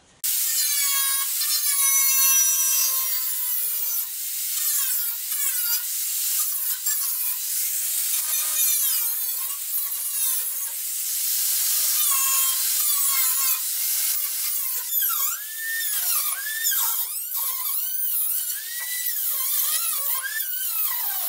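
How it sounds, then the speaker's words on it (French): Rusted sheet metal being cut away from the lower body sill of a Citroën Traction 11 BJ, a steady high-pitched grinding whine running continuously with slight wavering pitch, close and loud, no talking. "va falloir que je découpe pour récupérer toute la tôle propre et mettre une nouvelle tôle pour faire le bas de caisse"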